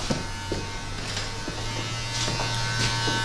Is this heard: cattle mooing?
no